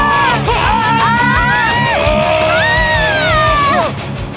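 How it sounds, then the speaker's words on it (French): Riders scream and whoop together on a high-speed water roller coaster, several voices yelling loudly and continuously with rising and falling pitch, close and intense throughout, fading slightly at the end. "Il y en a une qui va crier."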